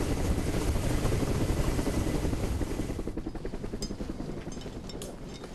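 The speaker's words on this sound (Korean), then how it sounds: "헬기가 표지석을 싣고 올 동안 먼저 내린 대원들은 표지석 내릴 공간을 확보해야 한다." A helicopter carrying a marker stone to a mountain site thunders close by, its rotor chop loud and continuous before easing slightly toward the end.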